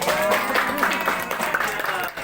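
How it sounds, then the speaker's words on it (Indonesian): Audience at a halal bi halal religious gathering claps in a dense, continuous burst of applause, moderately loud and close, fading slightly near the end. "Mana tepuk tangannya?"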